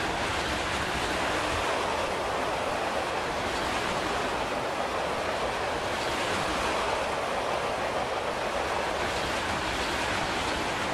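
A loaded intermodal freight train of mostly full wagons rolls past in Train Simulator 2019, a steady broadband rumble and wash of wheel noise holding constant throughout with no talk.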